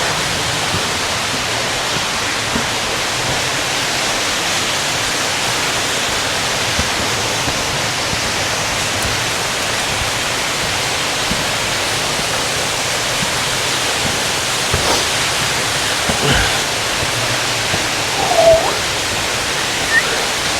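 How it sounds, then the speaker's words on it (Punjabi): A waterfall at Pinnacles National Park in California, where it feeds a creek beside rock caves, gives a constant broadband rushing roar that stays loud and steady throughout, with no talk. "ਉਹ ਝਰਨਾ ਸਾਹਮਣੇ ਜਿੱਥੋਂ ਇਹ ਕ੍ਰੀਕ ਬਣਦੀ ਹੈ"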